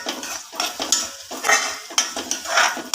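Mutton for mulakkada mutton curry fries in a pan while a utensil stirs and scrapes it, giving several close, loud bursts of sizzling clatter over about three seconds with no voices.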